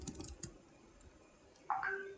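A few soft keyboard key clicks on a computer, typed briefly and close up before a louder tonal blip near the end, with no talking.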